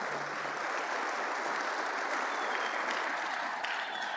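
Steady applause from a church congregation praising during a sermon, a dense even wash of clapping sustained throughout at moderate distance with no talk over it.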